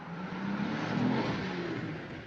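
A car driving off at speed in a 1940s film chase, with a steady revving engine roar that swells and then eases slightly across a couple of seconds, close and loud with no talking.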